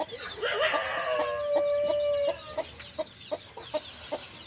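A hen clucking up close with her chicks, a steady run of bright calls followed by short, spaced clucks and peeps.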